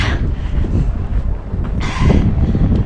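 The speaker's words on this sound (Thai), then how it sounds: "ลมก็พัด" Strong wind rushes and buffets across a snow-covered mountaintop at Semmering, Austria, a loud, close roar with gusty surges and microphone rumble throughout.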